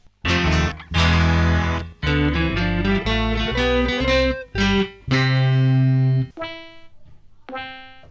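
A buzzy, resonant synthesizer keyboard plays a run of chords and notes with a wet, squelchy filtered tone, loud and close, ending in thinner sustained notes.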